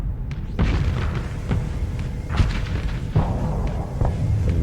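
Missile explosions in a Starsector space battle, a string of heavy booms and thuds landing one after another over a rumbling background.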